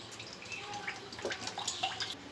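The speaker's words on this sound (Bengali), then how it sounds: "আমি এবার সাদা তেলটা ঢেলে দেবো।" White cooking oil poured from a container into a hot, empty wok, giving a steady close pouring and trickling stream with faint spattering.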